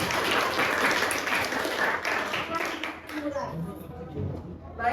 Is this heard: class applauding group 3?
yes